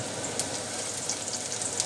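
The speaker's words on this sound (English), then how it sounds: "first thing that goes in is our garlic, and you can hear that sizzle straight away" Garlic sizzles in hot oil in a home kitchen during a cooking session, a steady, fairly faint frying hiss with small crackles that runs through the whole moment without a pause.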